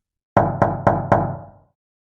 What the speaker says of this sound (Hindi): रात को किसी की खटखटाने की आवाज आती है।